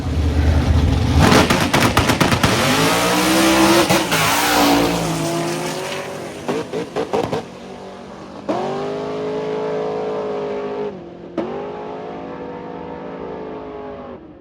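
Drag race car launching into a long wheelie at a drag week event, a loud roaring engine burst with crackling bangs that fades as the car pulls away, then further passes rising and dropping in the distance.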